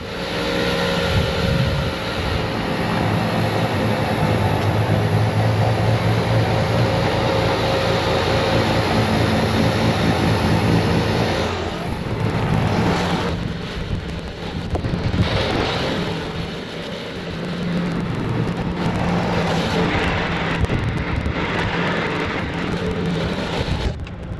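A Bobcat T66 track loader runs a snowblower during a windy snowstorm. A steady roaring drone with engine rumble and wind buffeting on the microphone continues throughout, easing slightly midway before building again.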